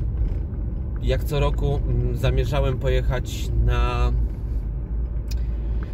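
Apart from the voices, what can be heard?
car interior driving rumble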